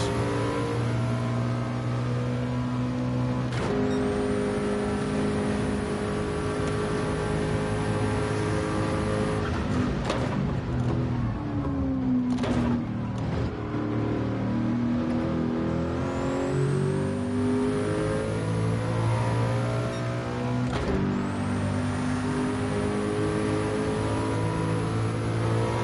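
A race car engine in Gran Turismo, played in VR with a G29 wheel, revs steadily and loudly for the whole stretch, its pitch climbing and dropping through gear changes and throttle lifts, with no talking over it.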